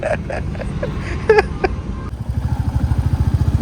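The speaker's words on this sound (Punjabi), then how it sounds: "ਅੰਕਲ ਨੇ ਮੋਟਰਸਾਈਕਲ ਲੈ ਚੱਲੇ ਨੇ ਸਾਨੂੰ ਆਪਣੇ ਘਰ" A nearby motorcycle engine runs, with rattling and clatter at first, then settling into a loud, rhythmic putting thump.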